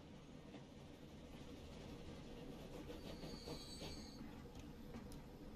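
A train rolls past in the Transport Fever 2 railway simulation, a steady dense rumble of wheels and carriages with a faint high squeal partway through, continuous and fairly near with no talk.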